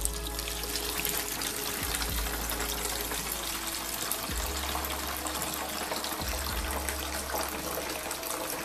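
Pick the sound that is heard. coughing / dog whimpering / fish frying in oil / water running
water running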